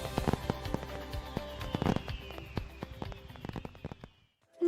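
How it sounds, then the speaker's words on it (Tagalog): Fireworks in an advertisement crackle and pop in rapid bursts, a dense string of sharp bangs and crackles that thins out and stops near the end. "keep the tradition alive with fireworks built for excitement and crafted for safety"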